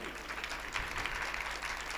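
Audience applause for Gopalanand Swami during a Guru Purnima gathering in Surat, a dense patter of claps from a crowd that holds steady throughout.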